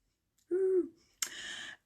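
A voice imitates a bird call with two short sounds: a steady hooting tone, then after a brief gap a breathier, brighter second note, clear and close in an otherwise quiet room.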